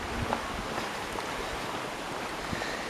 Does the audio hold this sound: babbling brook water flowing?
yes